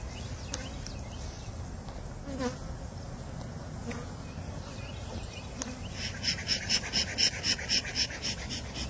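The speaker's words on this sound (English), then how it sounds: "I mean, that's a lot of bees." A large swarm of honey bees hums with a steady, close drone, and the buzzing swells into louder rhythmic pulses toward the end.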